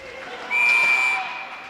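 A referee's whistle at an ice hockey game between Milano and Asiago, a single bright sustained blast of about two-thirds of a second rising over the arena's crowd noise and murmur.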